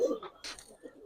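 A Giribaz pigeon gives a short, soft coo, a brief low warble followed by faint rustling, quiet and close.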